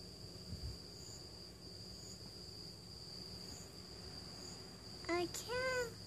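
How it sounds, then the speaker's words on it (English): Small insects chirp outdoors in a faint, steady high trill that runs through the clip over a quiet background, with a short louder sound near the end. "I hear all the little bugs."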